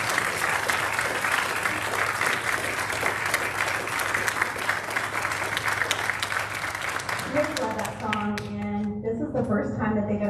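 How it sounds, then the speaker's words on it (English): A youth orchestra audience applauds a woodwind ensemble, dense steady clapping that fades out after about seven seconds, followed by tonal musical notes. "Can we give him another round of applause?"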